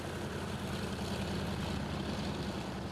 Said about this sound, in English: The US president's plane has just landed.